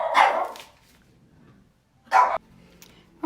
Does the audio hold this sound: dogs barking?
yes